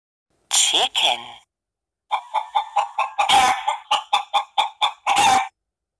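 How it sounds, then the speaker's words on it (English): Recorded chicken clucking from a children's sound board book: a couple of short clucks, a pause, then a rapid series of about a dozen sharp, evenly spaced clucks, loud and close. "Chicken."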